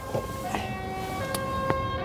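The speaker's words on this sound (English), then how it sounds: "We can hear horns, people." Horns from an approaching tractor parade sound in the distance, a few short tonal blasts at a steady pitch over constant outdoor background noise.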